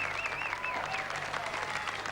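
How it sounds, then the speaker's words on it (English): A pageant audience at Miss World Australia 2003 applauds the finalists in a dense, continuous wash of clapping, with faint music running underneath. "Give them a round of applause as they come out to you"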